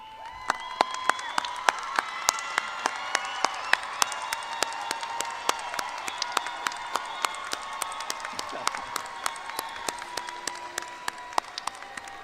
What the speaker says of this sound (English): join me in applauding those who helped you earn your degree